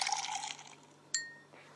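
Water pouring into a bottle in an escape puzzle game, a short bright trickling splash that fades, then a single clear glassy clink with a ringing tail.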